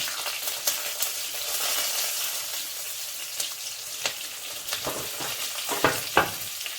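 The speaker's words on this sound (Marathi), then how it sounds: "आता आपण त्याच्यात कांदा परतून घेऊ." Chopped onion sautéing in a pan with chana dal for a Mysore masala dosa filling, a steady close sizzle and fry broken by sharp scraping and stirring strokes of a spoon against the pan, no voices.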